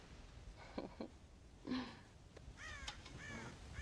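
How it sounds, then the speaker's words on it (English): Crows cawing in the video game Red Dead Redemption, a few harsh calls spaced across the clip, moderately faint over a low ambient background with no talk. "God damn crows!"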